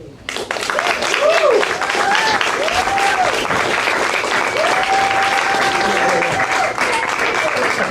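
Open-mic audience at a brew house gallery gives a comedy set loud, sustained applause, a thick steady roar of clapping with cheers and whoops rising above it.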